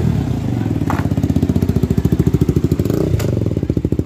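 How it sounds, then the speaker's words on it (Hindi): A KTM motorcycle with a modified aftermarket exhaust revs hard up close, its loud pulsing exhaust note rising and falling in rapid, rhythmic bursts with no talking. "तो कैसा लगा एग्जॉस्ट का साउंड?"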